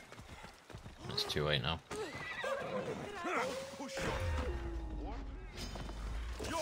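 Horse galloping with clip-clop hooves and neighing in the video game Assassin's Creed Odyssey, heard up close with a man's speech over it and game effects in the background.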